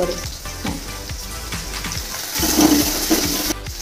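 Curry leaves dropped into hot oil for sambar, a steady frying sizzle with bubbly crackle that swells louder about two-thirds through, with no talk over it.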